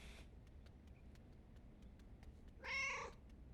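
A cat character, Miss Kitty, meows once in the video game Calico, a single clear mid-pitched call near the end over soft ambient game background with faint ticking.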